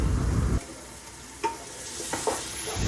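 Onions, green chilli and crushed ginger-garlic paste sauté in a pan for a mutton dish: a short loud burst of sizzling fades into a quieter hiss with a few scattered spatula scrapes.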